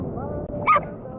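Vanilla the dog whines and whimpers briefly near a river, a short high begging cry rising over low background murmur.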